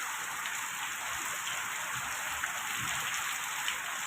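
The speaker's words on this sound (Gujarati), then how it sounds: "પવન સાથે ધોધમાર વરસાદ પડી રહ્યો છે." Heavy rain driven by wind pours down steadily in Gariyadhar, a dense even hiss with a few louder drops landing nearby, no voices.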